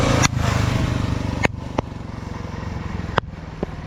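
A mini off-road drift and drag quad revs hard close by, its engine ripping steadily with sharp clattering bursts and brief lifts in throttle.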